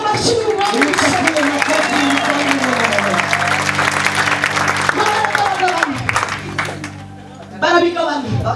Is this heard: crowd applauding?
yes